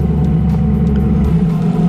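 A Yamaha FZ1 1000 motorcycle engine rumbles steadily while riding along a road, a loud, close, low droning tone with slight wind noise and no voices.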